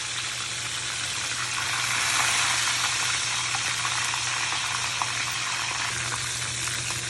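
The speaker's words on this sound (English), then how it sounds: "so now I'm going to add some more fish into that oil over there" Fish fries in oil in a Jamaican brown stew fish preparation, a dense, continuous close sizzle and crackle with a low steady hum underneath.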